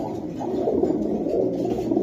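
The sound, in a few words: pigeon cooing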